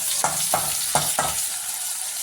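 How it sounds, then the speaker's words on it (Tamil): Chopped tomato and green chili sizzle in a hot pan under a steady hiss, with four or five quick scraping stirs spaced about half a second apart, close up. "நறுக்கி வச்சுருக்க தக்காளியையும் பச்சை மிளகாவையும் சேர்த்து வதக்கிக்கலாம்"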